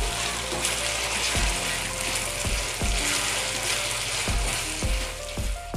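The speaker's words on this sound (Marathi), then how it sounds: "आता तर आपण याला ना मध्यम आचेवर ना सर्व ना व्यवस्थित भाजून घेऊया।" Potato, onion and tomato frying in oil over medium heat, with a steady close sizzle under repeated sharp scraping and clicking strokes of a spatula against the pan, and no talk.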